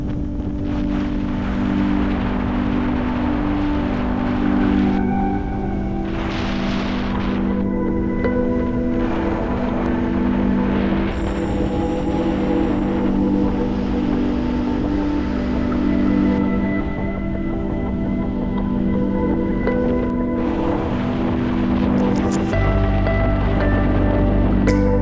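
Motorbike ride from Yogyakarta to Borobudur temple in Indonesia, a loud, continuous engine drone mixed with heavy rushing wind noise on the microphone, steady throughout with a deeper rumble swelling near the end.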